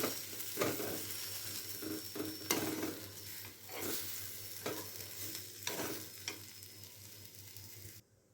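A pumpkin and peanut stir-fry is mixed in a pan with repeated close scraping strokes of the spatula over a soft sizzle, and it stops abruptly at the end.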